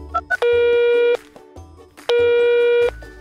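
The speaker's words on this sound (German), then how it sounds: "Ich rufe jetzt gleich Frau Dr. Grün an." A telephone call is placed: a few quick dialing tones, then two long ringback tones separated by a pause, loud and close, with faint background sounds between them.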